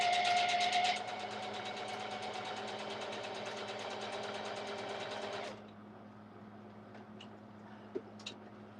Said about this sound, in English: The sewing machine sound?